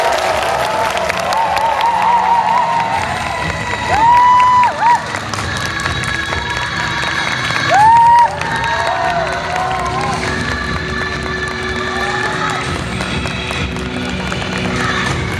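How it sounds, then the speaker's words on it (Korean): A large indoor audience applauds and cheers continuously at a Ghost in the Shell film event attended by Scarlett Johansson, a dense, loud roar of claps with shouts and whistles rising and falling throughout. "큰 박수 부탁드리겠습니다."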